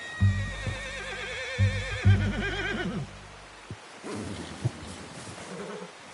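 A horse neighs in the video game Red Dead Redemption 2, a loud wavering whinny lasting about three seconds over a low musical drone, followed by quieter rustling ambience.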